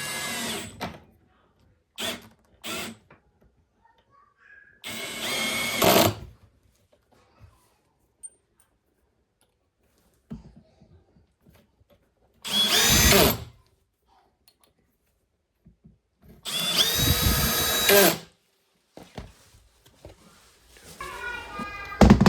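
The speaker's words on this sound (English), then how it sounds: "I'm simply drilling it right into the frame of the door opening here." A power drill drives screws through a door hinge into the wooden frame of a knee wall door opening, in several separate close bursts of whirring with quiet gaps between them.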